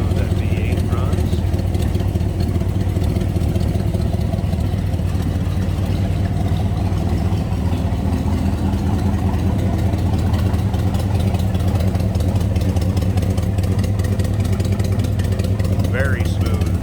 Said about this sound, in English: Nothing crazy obnoxious, but a nice rumble, nice deep throaty sound. Look at how smooth that V8 runs.